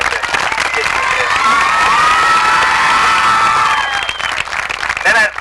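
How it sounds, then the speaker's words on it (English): Loud sustained crowd cheering and clapping honour the faculty at a 1993 graduation ceremony, with shouts and whoops rising over the applause throughout before easing near the end. "a great round of applause for the faculty that's done everything to get you here"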